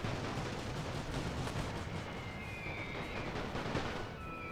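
Artillery and machine-gun fire in a First World War video game roars continuously: dense rumbling blasts and rapid crackling bursts layered into a loud, unbroken battlefield din, with a faint whistling tone near the end.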